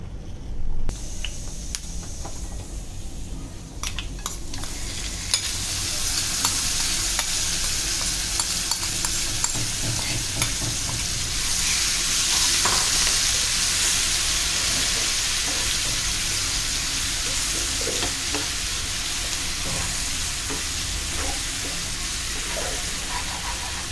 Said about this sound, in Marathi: ह्याच तेलामध्ये आपला मसाला आता छान आपण तेल सुटेपर्यंत फ्राय करून घ्यायचा आहे